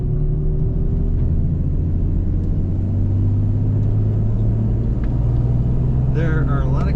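A 2009 Toyota FJ Cruiser with a manual transmission drives along, giving a steady low engine and road rumble throughout with no clear shifts. A voice talks over it.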